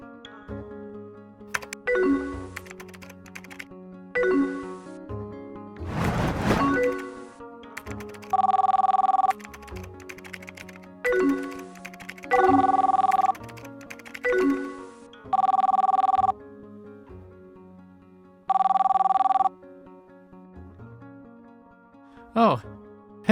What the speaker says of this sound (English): No, it's the hotel phone.